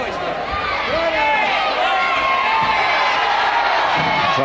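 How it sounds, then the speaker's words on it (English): A wrestling crowd screams and cheers steadily at a bout, its roar filling the background while a commentator talks over it. "Crowd screaming for a straight arm lift"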